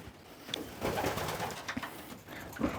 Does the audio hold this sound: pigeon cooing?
yes